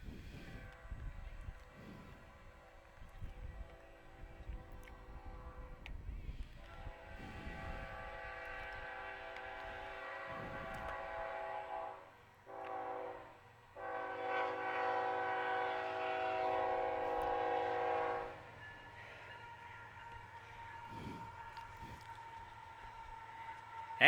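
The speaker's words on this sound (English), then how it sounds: "We'll warn you, we do have a train coming." A train passes close to a baseball stadium, sounding long sustained horn blasts over a steady rumble of rolling cars, the horn cutting off and resuming before a lower hum lingers.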